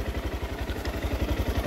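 A motorcycle engine idling in neutral, a steady close chugging pulse of rapid regular low thumps with light mechanical clatter, running alone without talk.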